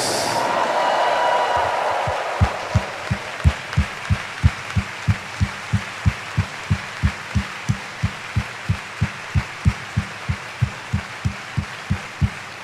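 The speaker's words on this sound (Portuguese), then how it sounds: "pode dar uma salva de palmas para Jesus" A church congregation at a Lenten Sunday evening Mass bursts into broad applause and cheering that fades within a couple of seconds, giving way to a steady, evenly spaced thumping beat.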